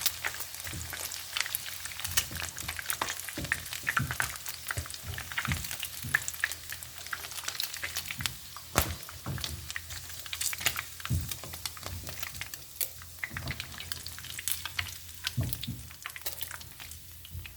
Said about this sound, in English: we're going to start frying these onions and the vegetable